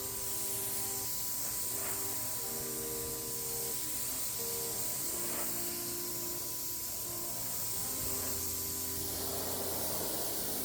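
Steady hissing spray from a nearby paint sprayer runs almost without pause, with faint short bursts and a low background hum.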